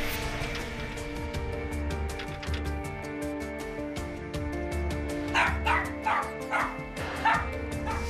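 A dog left alone inside a locked shop barks in a rapid series of sharp yaps with whimpering between them, close and loud over steady background music.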